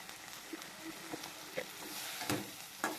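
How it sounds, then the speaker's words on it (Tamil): Tamarind, about a garlic clove's worth, sizzling and being stirred in a hot pan for coriander chutney, with scattered soft crackles and stirring scrapes over a steady faint frying hiss. "ஒரு சிறுசாக ஒரு பூண்டு சைஸ் அளவு புளி உள்ளே போட்டு வதக்குங்க"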